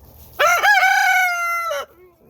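A single loud rooster crow rings out up close, a rising call stretched into a long held note before cutting off.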